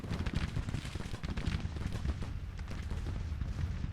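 Civil War battle in a strategy video game, with skirmisher rifles firing on artillery as dense, continuous crackling musketry and booming shots, loud and busy throughout with no voices.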